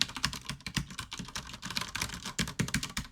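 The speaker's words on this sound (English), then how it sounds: "I'll be typing like this." Rapid, forceful clatter of keys on a computer keyboard, a dense uneven burst of clicks and thumps close to the microphone, no voices.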